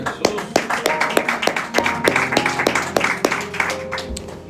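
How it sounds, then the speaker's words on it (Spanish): Congregation clapping at a Spanish-language church service, loud rhythmic handclaps in a steady beat over sustained keyboard music, close and continuous throughout. "Démosle otro fuerte aplauso a Dios."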